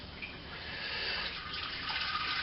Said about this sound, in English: Now you can give this bag a bit of a squeeze